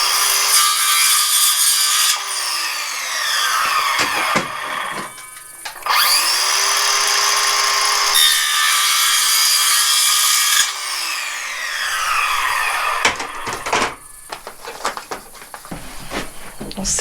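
A saw cuts material to fit a window air conditioner during an off-grid install, loud close strokes in bursts separated by short pauses, with clattering handling noises and no clear talking.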